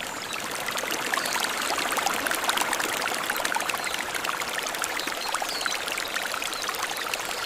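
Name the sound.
mountain stream water flowing through a wasabi farm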